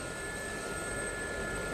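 Gazelle helicopter in the DCS flight simulator, its turbine engine giving a steady, unbroken roar with a high, thin whine running through it throughout.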